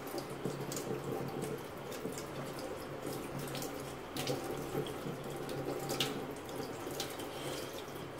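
Tap water runs steadily over a freshly cleaned utensil in a sink, a continuous close splashing rush with occasional brighter clinks and spatters.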